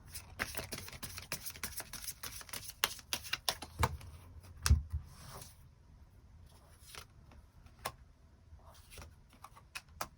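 Tarot cards being drawn and handled in a quiet room, soft quick flicks, taps and shuffling clicks at an irregular rhythm, faint and close with no talking.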